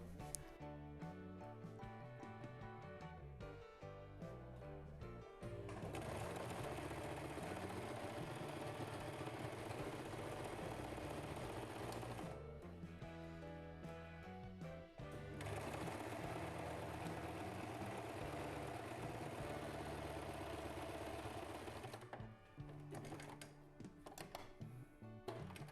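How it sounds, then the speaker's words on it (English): A sewing machine stitches a blouse sleeve in long continuous runs, its motor whirring and needle clattering loudly, with short pauses of quieter handling noise between passes. "Let me sew this sleeve again."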